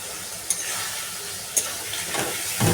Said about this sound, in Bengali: এবার আমি গ্রেট করে রাখা টমেটোটা দিয়ে দেবো।